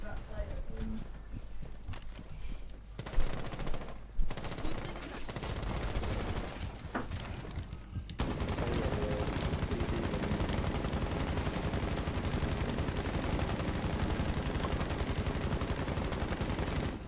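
Rapid automatic gunfire in the tactical shooter Tom Clancy's Rainbow Six Siege, a few scattered shots and voices early on, then a long unbroken spray of fast rattling fire filling the back half at steady loudness.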